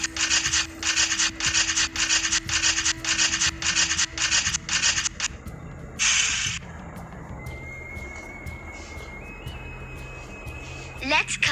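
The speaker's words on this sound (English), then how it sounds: "We need to grate this." In a cartoon kitchen, cheese is grated for a pizza: a run of brisk, evenly spaced rasping strokes close up, then a brief burst and a quieter stretch with a faint tone and background sounds.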